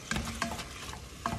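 Lean hamburger sizzles and fries in a little olive oil inside an enamel-coated cast iron kettle, with steady close crackle and a few louder stirring scrapes.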